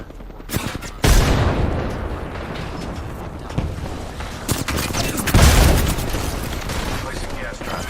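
A frag grenade goes off in a video game with a sharp thud followed by rumbling blasts and gunfire-like crackle, loud and close, with voices mixed in.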